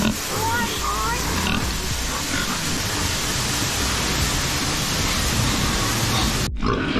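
Pigs on a pig farm grunt amid a dense, constant wash of pen noise, with someone talking over it nearby.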